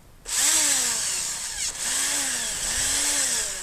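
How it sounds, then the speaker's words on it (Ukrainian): A cordless power screwdriver spins a self-tapping screw, giving a loud, close motor whine that dips and rises in pitch as the load changes, with one brief stall midway. "Ось у мене шовковерт."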